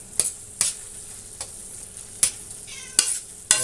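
Hamburger meat sauce for spaghetti simmers and softly sizzles in a pan, with a few sharp scraping stirs spaced through a low steady bubbling background.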